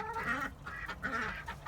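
Backyard ducks quack close by in about four loud, harsh, honking calls separated by short pauses, with no voices over them.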